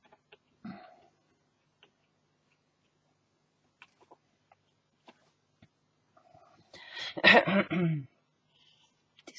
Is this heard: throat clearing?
yes